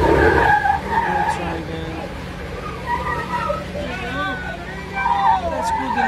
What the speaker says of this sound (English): The tire cannot catch.